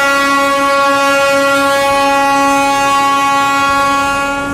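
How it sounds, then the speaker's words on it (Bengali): The Darjeeling narrow-gauge toy train on the mountain line from New Jalpaiguri gives one long, loud, sustained horn blast, close and steady, fading slightly at the end. "toy train"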